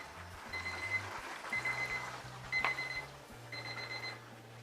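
A kitchen timer beeps in repeated bursts of a high electronic tone during cooking, with a low steady hum underneath and no talking.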